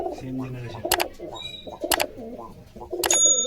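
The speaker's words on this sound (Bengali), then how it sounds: "কবুতর দারুণ আছে, বেশিরভাগ গিরিবাজ কবুতর" Giribaz pigeons offered for sale coo near someone talking, with sharp flutters or claps breaking in a few times between the low rolling calls.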